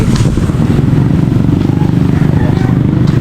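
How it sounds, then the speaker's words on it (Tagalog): A car passes close by with a loud, steady engine roar and a rough rattling drone, filling the whole moment without any pause. "Ayan, kotse na yan"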